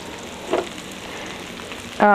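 Salmon grilling gives a low, steady frying crackle with a couple of brief louder pops, close and continuous.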